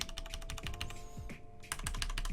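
Rapid typing on a Vortex Pok3r mechanical keyboard fitted with Tai-Hao PBT keycaps, a dense run of close, crisp keystrokes with a brief pause midway before the clatter resumes over a low steady hum.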